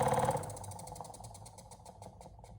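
A DC motor winds down after its supply is switched off, a humming whir that is strongest at first and then slowly fades with a faint rhythmic pulsing as it coasts to a stop.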